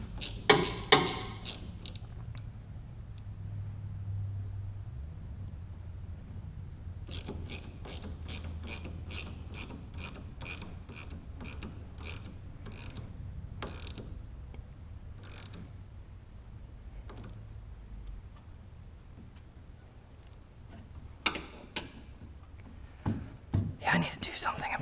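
Hand tools work a fitting during an LS engine swap into a Porsche 944: a run of rapid ratchet clicks in steady bursts, close and fairly quiet, with soft whispering and a few clanks.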